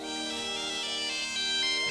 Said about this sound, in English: It's my dad's satellite phone.